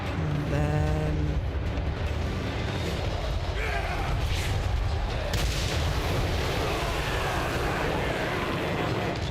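Cannon and artillery fire rumbles from a Total War Warhammer 3 battle with dense booming and continuous battle din, loud throughout, while a voice talks over it.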